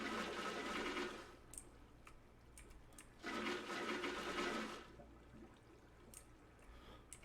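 Water flowing in Minecraft as it is placed in lines along all four sides of an iron farm build, rushing in two loud bursts of a second or so each, with quieter trickling between.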